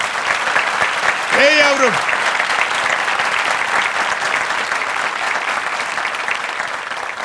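A studio audience at a Turkish talk show bursts into loud, sustained applause that fills the room throughout, with a brief voice calling out near the start.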